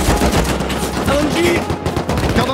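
Light machine gun fire in the Rust video game, a loud, dense stream of rapid shots rattling continuously and close.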